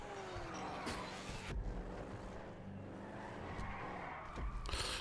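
A Sabre Turbo car in GTA 5 roars steadily down a highway, engine droning loud and continuous with brief tire skids and squeals breaking through.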